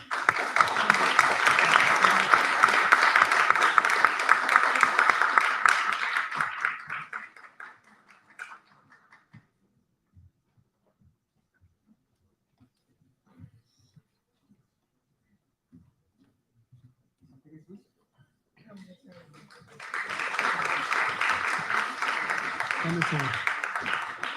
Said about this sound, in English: Please give them a good round of applause.